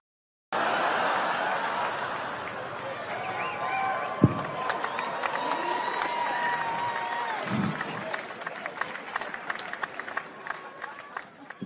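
A stand-up comedy audience breaks into applause and cheering, with a sustained wash of clapping, whoops and crowd noise after a brief silence, loud and close and continuing to the end.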